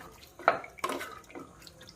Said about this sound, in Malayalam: ചെറിയ ചൂടുള്ള വെള്ളമാണ് അത് ഒഴിച്ചു കൊടുക്കണം